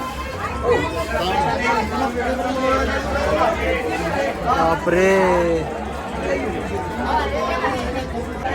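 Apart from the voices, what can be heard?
crowd chattering at Ganagapur temple darshan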